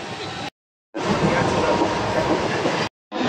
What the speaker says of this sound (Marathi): आता आम्ही ट्रेनमध्ये बसलोय